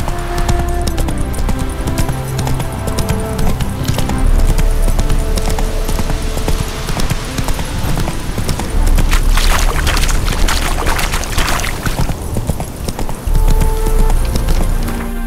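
Roach, a horse in The Witcher 3, gallops with loud, continuous hoofbeats in a quick rhythm, close by, with bursts of brushy ambient noise around the middle and end.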